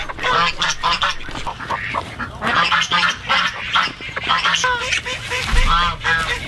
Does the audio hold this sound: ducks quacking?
yes